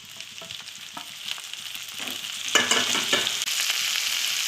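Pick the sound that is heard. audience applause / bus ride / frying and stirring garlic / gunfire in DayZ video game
frying and stirring garlic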